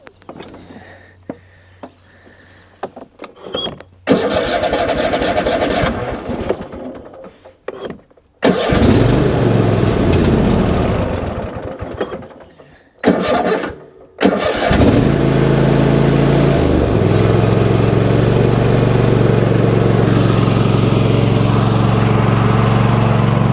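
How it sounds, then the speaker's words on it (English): An old tractor engine cranks in several short bursts with gaps between them, then catches and settles into a steady, loud, slightly uneven idle that runs on with a faint miss. No talking. "Let's see if we can figure this tractor out real quick, or at least get it running."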